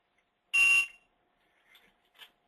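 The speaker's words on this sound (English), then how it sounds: "so I don't know if you heard the beep or not" Single loud electronic beep from a handheld barcode scanner reading a label, lasting about a third of a second, followed by faint quiet handling noises.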